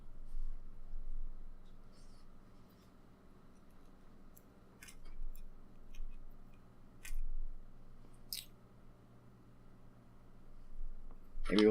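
A small pick scrapes and clicks against a RunCam camera case in scattered, quiet bursts as someone tries to pry it open, with faint low background hum.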